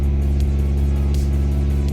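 A Nissan 240SX drift car engine idles loud and close in a steady, throbbing rumble with a rough, uneven lope.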